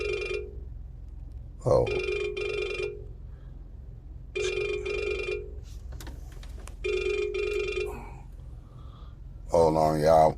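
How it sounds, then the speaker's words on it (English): Telephone ringing with an incoming call, several bursts of electronic ringing separated by pauses, loud and close, with a brief vocal exclamation and a short voiced sound near the end. "I got a phone call"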